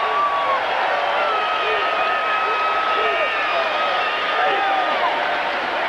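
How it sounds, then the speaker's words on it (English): Dense, sustained roar of a boxing crowd at the Apollo during a Shane Mosley versus Wilfredo Ruiz fight, loud and unbroken, with scattered shouts and whistles rising out of the din. "Crowd here at the Apollo loving what they're seeing"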